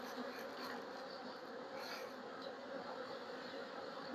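Honeybees humming around an open hive box during an inspection, a soft, continuous drone of many wings close by with no talking, the buzz swelling faintly now and then.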